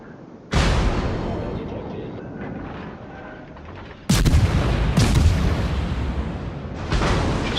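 Loud, heavy cannon blasts from a video game battle, in three or four separated booms. Each boom rolls into a long rumbling decay, with some faint background sounds between them.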